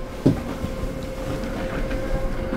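The electric drop-down queen bed inside a 2021 Rapido M96 fully integrated Mercedes-Benz Sprinter motorhome rises on its motor, giving a steady low mechanical hum with a faint whine and a small clunk near the start, close by and with no talking.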